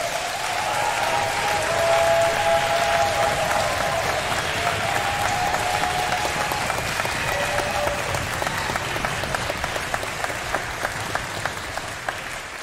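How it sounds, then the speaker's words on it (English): A concert audience applauds the adult leaders at a fall concert: dense, sustained clapping with a few cheers early on, thinning toward the end into scattered individual claps. "I'd ask you to offer a round of applause to our adult leaders"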